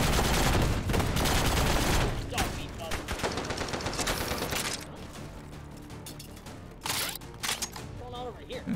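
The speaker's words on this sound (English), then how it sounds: "Too many people shooting me in the back." Gunfire from the VR shooter game H3VR: dense, loud bursts of rapid shots and rattling weapon mechanics, heaviest in the first few seconds, then thinner volleys and single cracks with some faint talk underneath.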